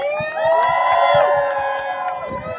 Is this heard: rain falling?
no